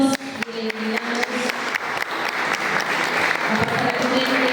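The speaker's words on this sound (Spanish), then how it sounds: "Le brindamos fuertes aplausos" An audience at a school essay and speech contest applauds a prize winner, sustained dense clapping from a crowd that builds and holds steady throughout.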